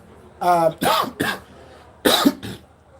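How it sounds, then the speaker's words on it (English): A person breaks into a few short, harsh coughs during spoken commentary on the US election. The coughs are mixed in with voiced throat sounds, come in two clusters, and are close and fairly loud. "I'm just having a little cough"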